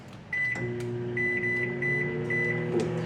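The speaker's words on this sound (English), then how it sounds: "pop it in the microwave, put it for 8 minutes" Microwave oven running with chicken inside, a steady low hum and whirr close by, with faint clicks and a soft high tone over the drone.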